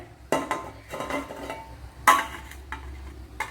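A metal lid clanks onto a cooking pot of jackfruit curry with a few sharp clatters and scrapes, close by in a quiet kitchen.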